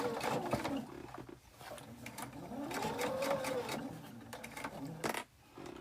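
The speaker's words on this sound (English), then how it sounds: "I will back stitch" A sewing machine back stitches quilt pieces in short whirring bursts with a mechanical hum and small clicks, close and moderately quiet, stopping and starting again near the end.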